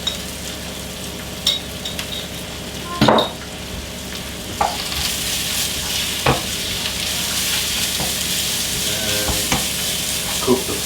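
Spice paste frying and being stirred with Sri Lankan ground pepper and a little salt, a steady close sizzle running throughout, broken by several sharp scrapes and clinks of a utensil against the pan, no voices.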